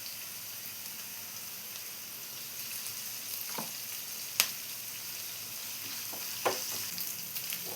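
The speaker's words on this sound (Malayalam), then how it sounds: "ഇപ്പോൾ സവാളയെല്ലാം നമ്മൾ വഴറ്റിയെടുത്തിട്ടുണ്ട്" Sliced onions with a pinch of salt sautéing in a pan, a soft continuous sizzle with a couple of brief stirring scrapes, close and fairly quiet.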